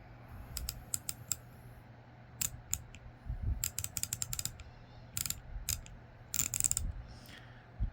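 An 88-tooth ratchet from the 88 series gives fine, quick bursts of clicking as it is swung back and forth. The bursts are close and fairly quiet, with brief pauses between strokes.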